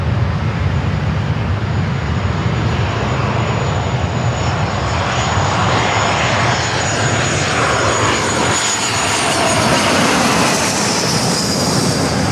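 A jet airliner departing Los Angeles LAX roars continuously, a broad, heavy engine rumble with a high whine rising slowly as the plane climbs out, loud and steady throughout.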